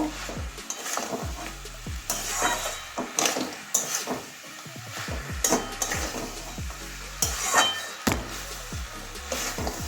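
A spoon scrapes and stirs through a broad bean curry with carrot, potato and fried lentil dumplings in a pan, a rhythmic series of close wooden knocks and scrapes over a soft sizzle.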